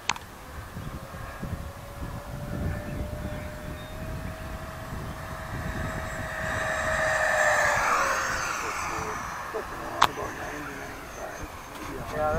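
An E-flite F-16 Thunderbird 70mm EDF RC jet runs near full throttle over a grass field, its steady ducted-fan whine swelling to a peak mid-clip and then easing off, with people talking nearby.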